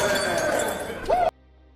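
Car window glass smashed in an action film scene, a burst of clinking, shattering glass over busy background sound, ending abruptly in near silence.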